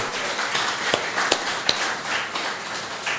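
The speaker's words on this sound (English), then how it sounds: "join in a round of applause for all their hard work" An audience at a literary festival applauds its volunteers, a modest, fairly soft patter of clapping with a few sharper individual claps standing out, no voices on top.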